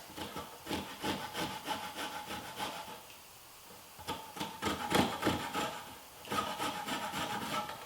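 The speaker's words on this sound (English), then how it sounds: "Got a microplane, a little bit of lemon zest." Lemon is grated on a microplane in a kitchen, giving quick rhythmic rasping strokes up close, broken by a brief pause midway and then resuming.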